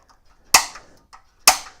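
A rivet being pushed out during an RV-10 aircraft build: two sharp, loud metallic bangs about a second apart, each ringing briefly before fading, with quiet stretches between.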